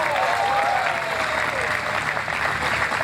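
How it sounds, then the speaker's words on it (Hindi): Audience applause at a taekwondo championship flag parade in Lahore, a loud, continuous wash of clapping from a large crowd, with voices mixed in beneath it. "मैं चाहूँगा कि आप भरपूर तालियों में इस्तकबाल करें"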